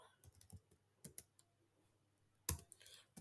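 Scattered bursts of computer keyboard typing while an SQL query is written, with short clusters of quick key clicks separated by pauses and a sharper, louder clack near the end.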